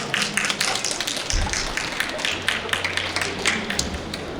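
An audience at a farm expo lecture claps steadily to welcome the next speaker, a dense, even patter of many hands filling the room at moderate volume.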